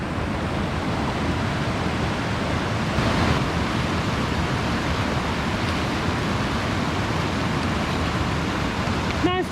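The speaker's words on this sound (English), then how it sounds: "Last river crossing of the day." Broad, steady rush of a mountain river at a trail crossing on the Pacific Crest Trail, loud and continuous with no break for the whole stretch.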